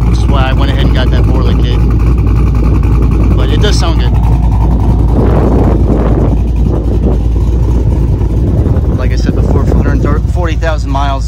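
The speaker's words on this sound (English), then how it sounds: "The exhaust, in my opinion, is a little bit too loud and too obnoxious." Loud, throaty car exhaust with a Borla kit rumbles and revs close by, with people talking over it at several points.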